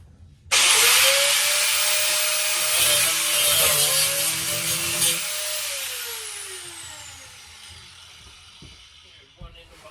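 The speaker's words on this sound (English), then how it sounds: "so I can get my cutoff wheel and cut the staples off that's holding them together" An abrasive cutoff wheel spins up with a sudden high whine and grinds through metal staples holding a vintage camper's face plate to its rail, loud and close, pitch sagging under load before winding down and fading out.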